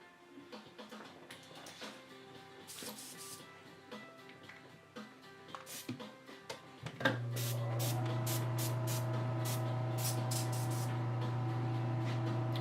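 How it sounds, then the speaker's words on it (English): Spray painting a model from far away: soft hissing spray bursts and clicks, then a steady loud spraying hiss with a low mechanical hum takes over and continues to the end. "So I'm spraying this like really far away, and I'm just kind of speckling it."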